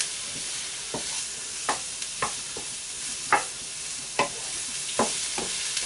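Mushrooms and bacon sizzle as they cook down in hunter sauce, with a steady fry under repeated sharp scrapes and stirs of a utensil against the pan, close and moderately loud, no voices.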